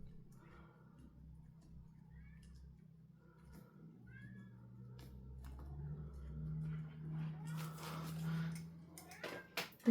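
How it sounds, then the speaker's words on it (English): A pet cat meows faintly indoors in a few short, high calls spread through a quiet room, with light rustling and tapping around it. "my cat meowing, he's trying to get into me."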